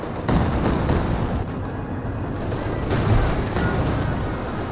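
Heavy 240 mm mortar artillery in the video game Company of Heroes 2 sounds as dense booming bursts and rumbling explosions, loud and continuous across the battlefield with no break.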